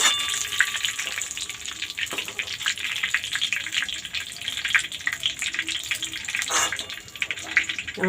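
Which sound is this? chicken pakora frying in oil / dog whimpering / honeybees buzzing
chicken pakora frying in oil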